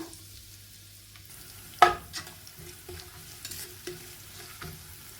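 Onion sautéing in oil with bay leaf, cardamom and cloves for Malabar meat rice, a soft steady sizzle broken by a sharp stirring clatter and a few lighter scrapes, close and alone with no talk.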